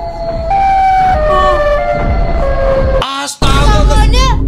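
A Siren Head siren from a TikTok clip wails loud and near in long sustained wavering tones, then breaks off briefly before a warbling swoop returns.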